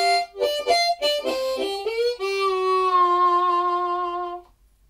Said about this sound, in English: So our final tongue blocking blues harp lick sounds like this.